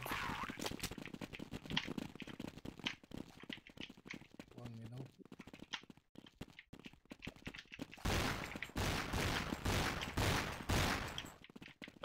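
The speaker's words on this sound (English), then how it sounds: "one guy is shooting with me from B base" Gunfire in Counter-Strike on the de_dust2 map, with repeated rapid bursts and sharp single shots in a dense, uneven rhythm over roughly twelve seconds, louder toward the end, while a player talks over it.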